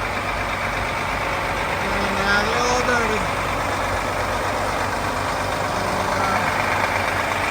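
A bus engine idles in a steady low rumble, continuous and close, at a stop before heading on to Notre Dame, with voices talking faintly over it.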